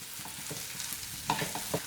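Chicken pieces frying on a tawa as a spatula stirs them, a soft steady sizzle with close scraping strokes and a couple of sharper clinks, no voices.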